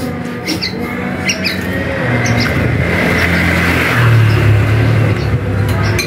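A Bali starling gives short squawking calls near a mosque, heard over a constant roar of passing road traffic.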